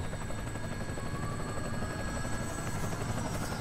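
Helicopter flying in the video game Metal Gear Solid V: Ground Zeroes, a steady loud rotor drone with a constant thrumming low end and a faint whine above, continuous and close throughout.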